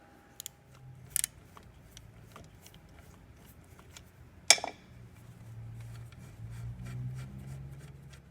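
A 10mm 12-point wrench works the throttle cable bolts off the throttle body of a Pontiac Fiero GT. Sparse, quiet metallic clicks and taps lead to one sharp snap midway, followed by low rustling.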